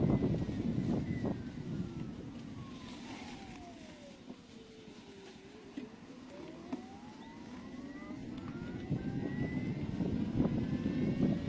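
Crosser TR-1 600 W electric scooter being ridden through its gears, heard as a steady motor whine that drops and then climbs in pitch as gears change, with faint wind rumble in the background.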